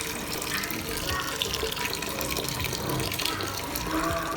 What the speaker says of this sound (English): I will add more water to cook the rice.